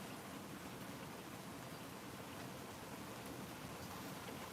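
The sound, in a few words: rain falling outside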